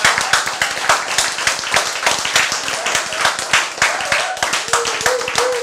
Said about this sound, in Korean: 박수를 치는 선택을 하신 분이 있고